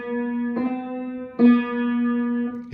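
Two keyboard notes played one after the other, B then C a half step up. Each is a clear sustained tone with a sharp attack, close and loud, with no talk.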